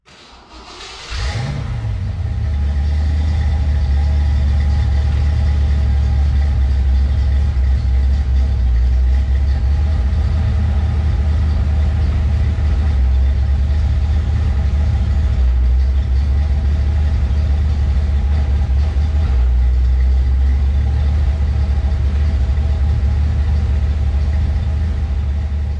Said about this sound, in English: We're gonna start the car up, kind of go through the gears